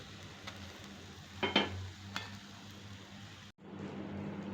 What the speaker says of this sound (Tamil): இதை திருப்பி போட்டுக்கிறோம்